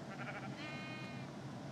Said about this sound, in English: Sheep farm.